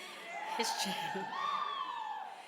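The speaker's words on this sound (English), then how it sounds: "he has his own cheering section out there" A distant crowd whoops and cheers briefly, a blur of voices shouting together.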